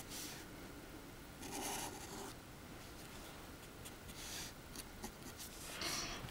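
Pencil or marker scratching across paper while a cartoon dog's back paw is drawn, with short strokes and light rubbing in uneven bursts, close and quiet, no voices.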